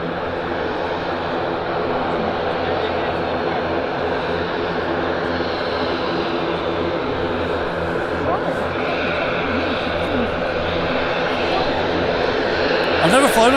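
Noisy aircraft taxiing at Manchester Airport, a constant loud engine drone with tonal whine that swells slightly toward the end.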